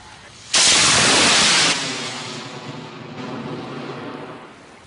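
An I-285 class model rocket motor ignites at a student launch event, bursting into a loud close roar that holds for about a second, then fades into a long rumbling trail as the rocket climbs away.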